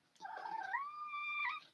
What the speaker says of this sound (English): That's Uno meowing.